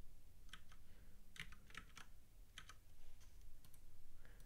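Quiet clatter of typing on a computer keyboard during level editing for a custom game, scattered bursts of key taps over a soft room hum, close but faint, with no talking.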